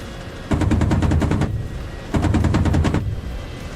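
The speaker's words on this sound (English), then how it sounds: "Here comes a big old stream of bullets." Two long bursts of rapid machine gun fire from a stream of bullets in the DCS flight simulator, with a Ka-50 helicopter under attack, each burst loud and close with evenly spaced rounds, separated by a short lull.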